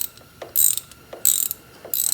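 Ratchet running a bolt in on a Jeep LJ brake kit, three bursts of rapid ratcheting clicks in an even back-and-forth rhythm, close and crisp with no talking.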